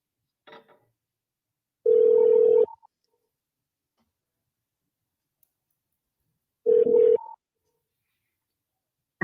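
A telephone call rings out twice, two loud, steady electronic ring bursts a few seconds apart with silence between and a faint click at the start.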